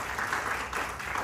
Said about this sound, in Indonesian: Beri tepuk tangan bagi Allah.